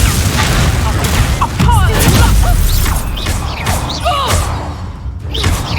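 Repeated spell blasts from Reducto and Confringo in Hogwarts Legacy, a run of loud booms and crashes close together, with a voice talking over them.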